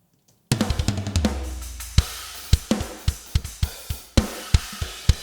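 Virtual drum kit from GGD Modern and Massive 2 blended with parallel compression, reverb and distortion, playing a groove of punchy kicks, toms and snare cracks over a dense, sustained wash of cymbals and room tail, loud and full.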